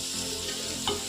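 Ground prawns are stirred into masala frying in a pan, making a steady close sizzle with a brief scrape of stirring near the end.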